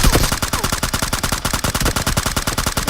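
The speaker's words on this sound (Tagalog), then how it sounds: "Naka machine gun." Machine gun fire in the video game PUBG, a loud, rapid, continuous stream of evenly spaced shots lasting a few seconds.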